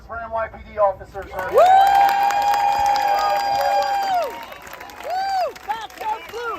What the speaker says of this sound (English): big round of applause for NYPD officers.